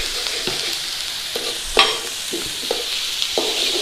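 Garlic and ginger fry in a hot pan for keema matar, a close, continuous sizzle broken by repeated stirring scrapes at a regular pace, one louder clatter midway, and no talking.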